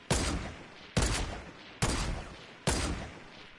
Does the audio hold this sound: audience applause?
no